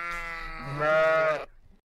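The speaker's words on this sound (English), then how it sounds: "Then what is all the bleating of sheep and goats?" A single sheep or goat bleat, loud and close, rises into a wavering, nasal cry that lasts just over a second and then cuts to silence.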